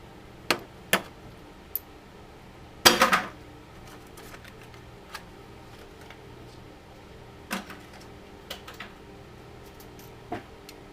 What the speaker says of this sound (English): I'm popping the socket off the extension